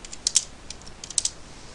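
Someone types a zip code on a computer keyboard: a handful of light, crisp key taps arriving in two small clusters, close by and alone against quiet room tone.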